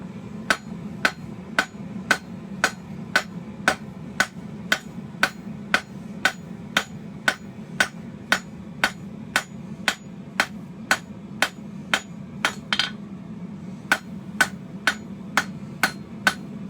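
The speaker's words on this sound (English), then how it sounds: "with your hammer so you can get a nice point in one heat" Hot steel is hammered to a point for a figure-eight hairpin and twist bottle opener, with over thirty sharp, evenly spaced ringing blows and a brief pause near the end, heard over a low steady hum.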